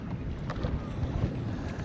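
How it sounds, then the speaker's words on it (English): Gusty wind buffets the microphone on the river at Willow Beach while kayaking, a low continuous rumbling roar with faint splashing underneath, close and steady throughout. "it's getting windy,"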